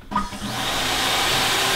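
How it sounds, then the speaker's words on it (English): An air blower switches on and roars steadily, a loud continuous whoosh used to fluff the fur of a squirrel taxidermy mount, with a brief clatter at the start and no talking. "take the blower"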